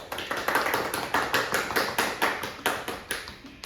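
Wedding guests clap in a steady round of applause for a newly introduced married couple at a wedding ceremony, sharp close hand claps repeating in a fairly even rhythm with no talk over them.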